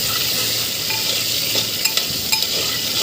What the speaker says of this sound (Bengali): প্রথমে আমি মাছটা দিয়ে দিলাম।